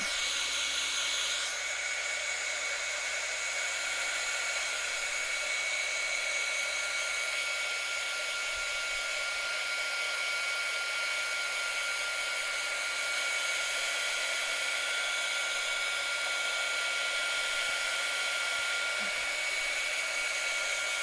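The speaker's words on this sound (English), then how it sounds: "use my heating gun just to kind of speed up the process a little bit for video purposes" A heat gun blows a steady, loud airflow whine to dry craft paint on Halloween treat cans, running continuously and alone with no talk.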